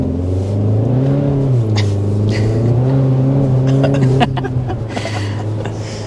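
A 2025 Hyundai Sonata N-Line cruising along a road, its engine holding a steady, loud low drone that rises and falls gently with throttle, with faint interior clicks and road noise throughout.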